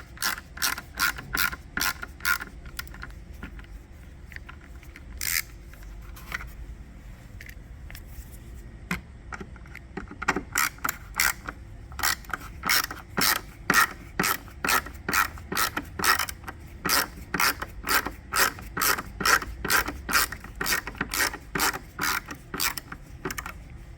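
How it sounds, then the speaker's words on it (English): A ratcheting driver backs out T20 screws from the taillamp panel of a 2008 Lincoln Navigator, sounding as rapid, regular clicks in bursts with short pauses, close and crisp. "there's two T20 screws that hold the panel in."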